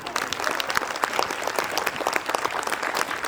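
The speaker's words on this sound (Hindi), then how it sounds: "आपके बच्चे का मुस्तकबिल इन टीचर्स के हाथ में है, तो मेरे ख्याल से ताली तो जबरदस्त बनता ही है." An audience at a school award ceremony claps for teachers in dense, sustained applause, loud and close, with many hands blending into a continuous crackling roar.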